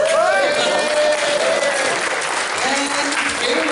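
A convention crowd at MFF 2018 breaks into loud, dense applause as a guest is introduced, continuous clapping with a few whoops and a faint voice threading through near the end.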